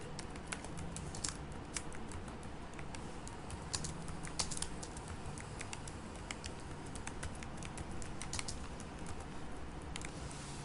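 Someone types on a computer keyboard while working in SAP S/4HANA software. Quick, irregular key clicks run steadily throughout at a close but quiet level.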